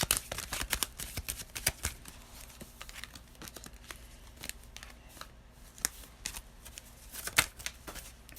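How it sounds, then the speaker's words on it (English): Tarot cards riffle and slap together in quick, uneven bursts of crisp papery snaps, close to the microphone, with some cards scattering loosely and no voices over the shuffling. "Cards are just flying everywhere."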